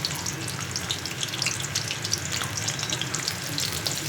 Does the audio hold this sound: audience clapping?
no